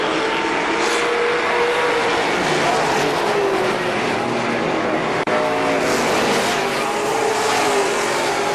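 Race cars roaring around a speedway as one spins out, a dense continuous engine blare with faint tire squeal woven through, heard from the stands.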